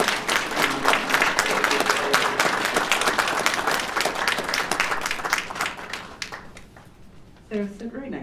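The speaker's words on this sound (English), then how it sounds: "if you want to give him a round of applause" A crowd applauds with dense, sustained clapping at a French Legion of Honour medal ceremony, gradually thinning and fading, followed by a voice starting to speak.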